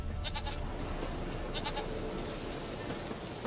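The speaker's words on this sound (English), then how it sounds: "Here, goat." A goat in The Witcher 3 gives faint, brief bleats, two quick clusters at a distance under low ambient game background.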